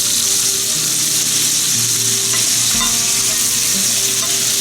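Duck breast sears steadily in a hot pan with rendered fat, a continuous loud sizzle with a brief clatter as the fillet is flipped, no voices.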